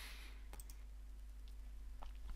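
A few quiet computer mouse clicks start a software installer, sparse and close, heard over a faint steady hum.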